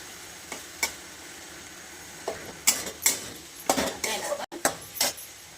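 Potatoes cooking in a pan for batata poha, with a spoon scraping and tapping against the pan over a low frying hiss, the sharp knocks coming irregularly and close.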